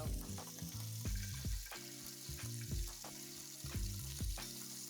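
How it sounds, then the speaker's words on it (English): Oxtail pieces browning in a hot pan, a steady close sizzle with repeated scraping and stirring knocks as the meat is turned, no voices. "we just want to make sure that we are browning all the sides"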